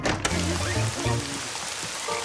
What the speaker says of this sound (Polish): Pada też!